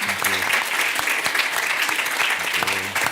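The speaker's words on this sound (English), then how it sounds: "A warm applause for our panelists." Warm applause from a conference audience thanking a panel of speakers, steady dense clapping filling the room throughout, with a few voices faintly mixed in.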